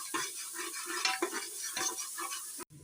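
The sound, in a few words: onions being sautéed and stirred with salt in a pan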